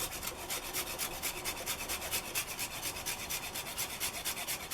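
Fresh ginger being grated in a kitchen, a quick run of rhythmic rasping strokes, close and fairly quiet, with no talk.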